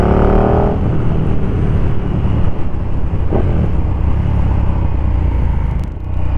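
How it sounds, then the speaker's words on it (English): A 2020 KTM 1290 Super Duke R V-twin motorcycle fitted with an Austin Racing V3 Mini 200mm aftermarket exhaust idles with a loud, steady, deep rumble, close by and alone, with no voices. "Austin Racing have got the best sounding pipes for this particular bike, or V-twins in general"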